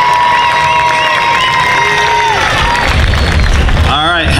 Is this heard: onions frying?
no